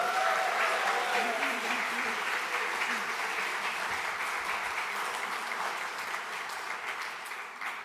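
A church congregation's round of applause during a service: dense, steady clapping from many hands that gradually thins and softens toward the end, with a brief murmur of voices under it at the start.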